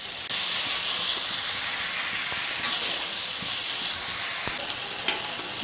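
Mustard paste cooking with spices in a pan for a bhola fish curry gives a continuous soft hiss and sizzle at moderate level, with a few faint stirring touches and no voices.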